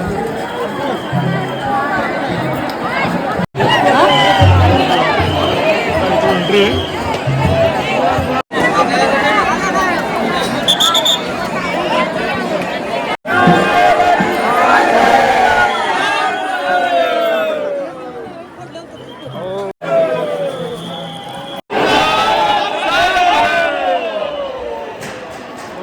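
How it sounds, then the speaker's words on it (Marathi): A dense crowd packs a temple festival in Chinchani, with loud, continuous close-up chatter and babble from many people and occasional brief cuts, while someone speaks near the microphone. "खूप अशी गर्दी झालेली आहे यावर्षी."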